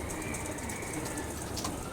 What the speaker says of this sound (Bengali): ওনার পালিত 4টা কবুতর, সুন্দর 4টা কবুতর।